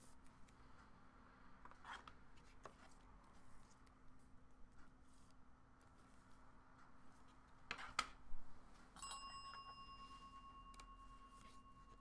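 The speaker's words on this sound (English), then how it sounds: "that was an accidental bell ring" A small bell rung by accident on a table during a trading card case break, struck around the eight-second mark and leaving a brief, fairly faint ringing tone over a quiet room with no talk.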